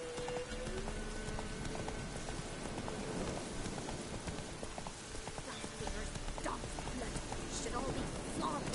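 Roach the horse galloping in the video game The Witcher 3, a steady rapid clip-clop of hooves running under rain-like hiss, with a voice speaking over it.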